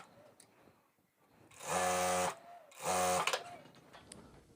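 Sewing machine stitching palazzo pajama fabric in two short, loud bursts of steady whirring, each close to a second long, separated by a brief pause with light handling sounds around them.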